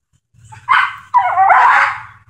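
A dog yelps sharply when an e-collar button is pressed, two loud startled cries in quick succession, the second one drawn out into a whining yelp, close and alone over faint background hum.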